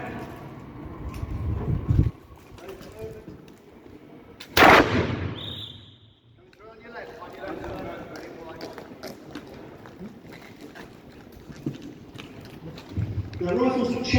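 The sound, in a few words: rifle fire in a historical drill and shoot display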